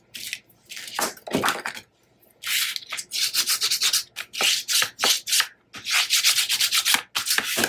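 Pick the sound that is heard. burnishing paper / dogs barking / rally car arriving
burnishing paper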